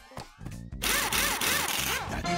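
A video game sound effect as a wheel is attached to a truck: a short tone, then a busy, loud run of whirring, drill-like ratcheting and rubbing noises for about a second and a half.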